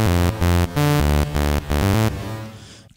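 Synth bass melody built on FL Studio's 3xOsc in an electro-house style, loud, rhythmic pulsing notes in short repeated bursts with a regular beat, then a final note fading out, heard alone.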